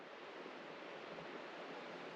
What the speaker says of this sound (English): As you can see, the river is just right there.